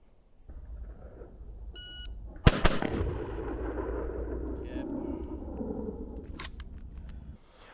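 A Maxim Defense PDX short-barreled rifle fires one sharp, loud shot, followed by a long rolling echo and ambient rumble, with a fainter crack near the end.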